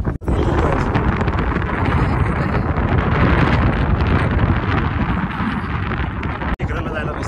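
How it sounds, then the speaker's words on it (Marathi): Strong, roaring wind buffets the microphone on the top of Brahmagiri mountain, a steady loud rush lasting throughout with only a couple of brief dropouts. "खूप भयंकर हवा आहे वरती"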